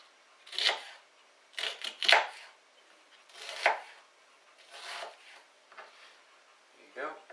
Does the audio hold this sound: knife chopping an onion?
yes